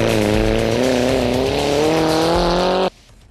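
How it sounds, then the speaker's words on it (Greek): Skoda Octavia 4x4 rally car from Theodorakakis Motorsport at speed during testing near Spata airport, its engine a loud, steady, rising howl that carries for about three seconds and then cuts off abruptly. "Απολαύστε Σκόντα Οκτάβια 4x4 σε χαμηλή πτήση"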